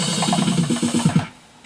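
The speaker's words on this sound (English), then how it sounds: "the drum kits will change based on the chord too, so now it sounds like this." Yamaha Sonogenic SHS-500 keytar in Jam Mode playing a chord-following drum kit pattern, a quick run of rhythmic pitched hits with a synth layer for about a second before cutting off.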